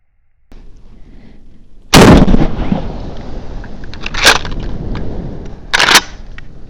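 A video game shotgun fires three loud, sharp blasts, each a sudden booming crack with a short decaying tail, spaced a couple of seconds apart over a low, steady background rumble.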